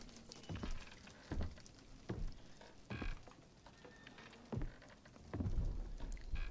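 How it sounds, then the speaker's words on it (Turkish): Rain falling in the horror game Visage, a steady patter broken by several dull low thuds and rumbles at irregular intervals, with a brief faint tone. "Yağmur yağıyormuş."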